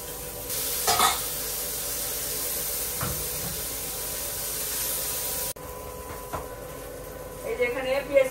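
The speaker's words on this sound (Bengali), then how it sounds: "এই যে এখানে পেঁয়াজ কুচি দিয়ে দিলাম।" Chopped onion frying in a pan with a steady hiss of sizzling oil, a few stirring clatters and a brief drop in level partway through.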